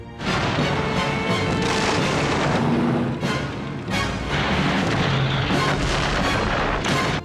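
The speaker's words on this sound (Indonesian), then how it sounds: "pasukan Rokossovski segera menembakkan artileri menggempur tank-tank Jerman" Artillery shelling German tanks in a Battle of Moscow war film: loud, continuous heavy booms and blasts roll one after another over a dense battle din, with no voices.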